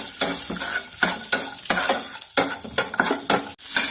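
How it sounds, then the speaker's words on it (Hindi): Almond slivers and raisins fry in a pan for Kabuli pulao, with a spatula scraping in steady rhythmic strokes about every half second over a continuous loud sizzle, close up and without talk. "बादाम की गिरियाँ सौगी दोनों मैंने फ्राई कर लिया"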